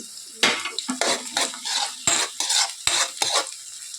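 Green chillies and onions frying in a pan, stirred in quick bursts of sizzling scrapes and metallic spoon clinks over a low steady fry, close up with no voices.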